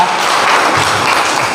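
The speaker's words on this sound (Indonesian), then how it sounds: "Tepuk tangan dulu semuanya." Steady, dense applause from an audience at a university geography teaching-practice session, sustained and fairly loud throughout with no break.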